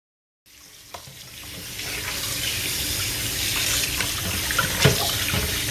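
A kitchen sink tap runs water over a steak, starting abruptly after a moment of silence and building into a steady close splashing rush with a few sharper spatters.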